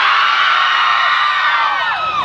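A crowd at a comedy show in Pokhara cheers and shouts loudly and continuously, with whoops and overlapping voices filling the whole stretch.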